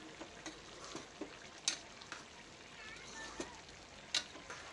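Curry mixture with salt stirred in a pan, a faint steady sizzle with several sharp clicks and scrapes of a spoon against the pan at irregular moments.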